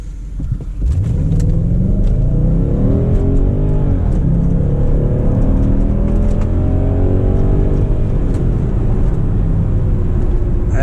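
A 2004 Audi Allroad with the 4.2 engine accelerating hard, a loud close engine note climbing through the revs in sweeping rises and drops as gears change, steady and alone without talk.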